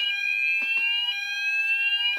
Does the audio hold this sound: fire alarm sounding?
yes